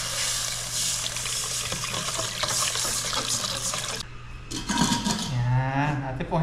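Water poured into a cooking pot holding garlic, ginger and fish sauce, a steady gushing splash with some clinks of the pot and a low hum beneath, a voice briefly heard.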